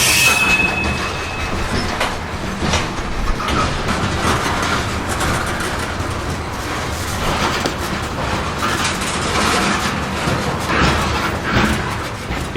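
A loaded Norfolk Southern freight train creeps along at restricted speed in Atlanta, giving a loud, continuous rumble of wagons with metallic wheel squeal and grinding throughout, and no talk.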